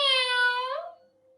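A single drawn-out meow voiced by a person imitating a cat during a rhyme about beds, loud and close, with the pitch sliding down and fading away.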